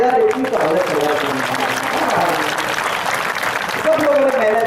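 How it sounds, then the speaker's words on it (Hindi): Crowd applause at a political rally in Rajasthan, steady clapping from a large seated audience that holds level throughout, with a voice speaking over it on a public address system. "ताली तो बजा सकते हो यार"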